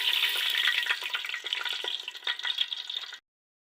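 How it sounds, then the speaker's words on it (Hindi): Cumin seeds dropped into hot oil, a bright crackling sizzle with scattered pops, fairly soft and close, fading out abruptly after about three seconds. "ऑयल के बाद हम इसमें डाल देंगे ज़ीरा।"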